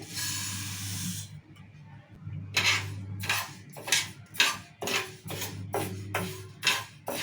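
Moong dal is dry-roasted in a kadai, a spoon scraping and stirring in a series of rhythmic rasping strokes over a low hum of the stove, close and fairly loud, with no talking.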